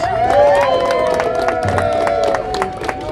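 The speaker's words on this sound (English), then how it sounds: "Please give yourselves a round of applause." A crowd at a Seattle street rally against white supremacy cheers and whoops loudly, with scattered clapping mixed into a steady, close roar of voices for about three seconds.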